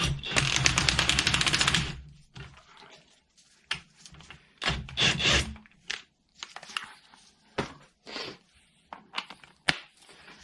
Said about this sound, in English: Slightly compress the spring.